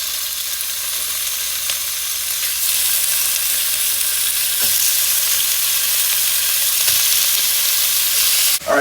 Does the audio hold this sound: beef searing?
yes